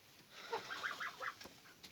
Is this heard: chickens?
yes